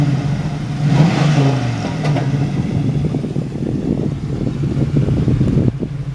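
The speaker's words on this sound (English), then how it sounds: "David, you want to rev it up a couple times for us?" A 1996 Buick Roadmaster wagon's engine, somewhat crusty, revving outdoors, a loud low rumble swelling with throttle blips over wind noise on the microphone.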